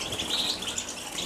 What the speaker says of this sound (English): These are the goldfinches, crammed into little tiny cages, in very poor condition as well, and also we have green finches